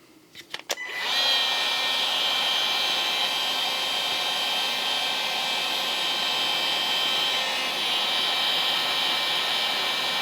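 A heat gun blowing hot air onto plastic, a steady, loud whooshing whine that starts after a few clicks and holds constant close by for about ten seconds.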